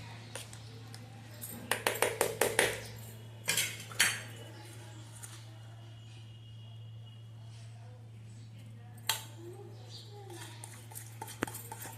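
A spoon stirs coriander leaves into yogurt raita in a bowl, producing a quick run of bright, rhythmic metal clinks, then a few isolated taps over a steady low hum, with a voice speaking quietly in places.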